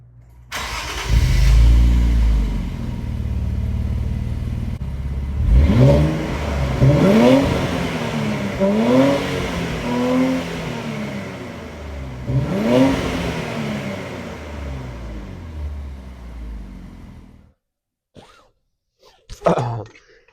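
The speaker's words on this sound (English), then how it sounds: "I'll give some sound clips of the exhaust real quick in the garage." A 2017 Infiniti Q60 Red Sport engine revs repeatedly in a garage, its exhaust rising and falling in several loud bursts before cutting off, followed by brief clunks.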